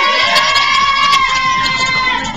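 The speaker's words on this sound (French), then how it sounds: "Neuro, on les applaudit très très très très très fort." A crowd of children at a quiz-style game show cheers and shouts loudly for the winning red team, a sustained, excited din of voices and whoops.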